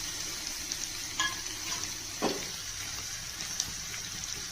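A tempering of urad dal, cumin, dried red chili and crushed garlic sizzles steadily in hot oil for radish-leaf pachadi, a close, even frying hiss with a few light stirring clicks and no talk.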